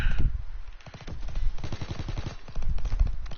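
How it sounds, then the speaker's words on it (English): Rapid automatic gunfire shooting enemies in Call of Duty WW2, dense bursts of sharp repeated shots in quick rhythm, loud and close, with brief pauses between volleys. "Shoot all these guys. Shoot that guy."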